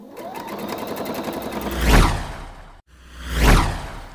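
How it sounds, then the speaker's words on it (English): A sewing machine stitches the side and shoulder seams of a dress in two bursts, its rapid motor whir rising to a peak each time. A brief pause separates the bursts and nobody speaks. "I'm going to stitch all the way along the side seam and across the shoulder seam on both sides"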